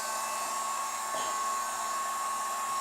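A heat gun blows a steady, loud hiss onto vinyl wrap on a BMW K1600GTL motorcycle, a constant airflow roar with no talk.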